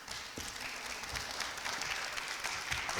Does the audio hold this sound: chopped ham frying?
no